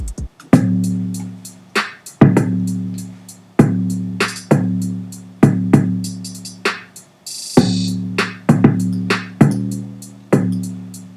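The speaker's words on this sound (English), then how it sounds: "bass, kicks, snares, hi-hats all together sounds like this" A programmed drum beat of bass, kick, snare and hi-hat plays alone, with punchy hits at an even tempo over a booming low bass line and bright hi-hat ticks, loud and upfront.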